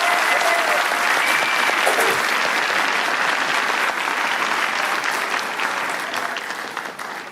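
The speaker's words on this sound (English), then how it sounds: "let's give them one more round of applause" After a county honor choir performance, a large crowd gives the children a dense, sustained round of applause that tapers off slightly at the end.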